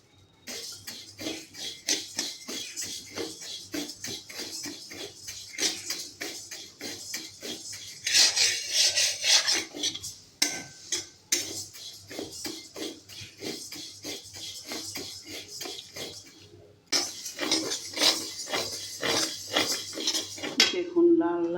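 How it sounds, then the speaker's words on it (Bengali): Mung dal dry-roasting in a pan, stirred with a steady rapid rhythm of spoon scrapes and light rattling grains against metal, close and continuous with brief louder stretches. "মুগ ডালগুলো লাল লাল করে অল্প অল্প করে ভেজে নেব"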